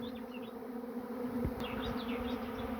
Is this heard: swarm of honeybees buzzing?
yes